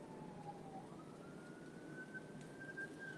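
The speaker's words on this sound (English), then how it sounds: "And that siren is confirmation." A distant siren wails faintly, its tone sliding slowly upward over a soft background hum.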